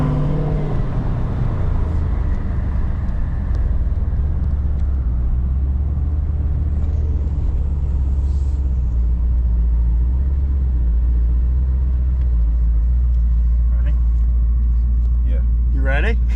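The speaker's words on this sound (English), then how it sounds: "So it's just enough for you to kind of hear the turbos." A twin-turbo Dodge Charger 5.7 engine runs with a loud, steady rumble throughout, and its turbos spool in the background. A faint whir rises near the middle and a few sharp chirps come near the end.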